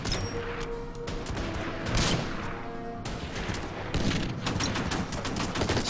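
Battle gunfire in the strategy game Order of Battle: Panzerkrieg at Sevastopol, dense bursts of rapid shots and heavier booms overlapping in a continuous, loud fusillade with no talk.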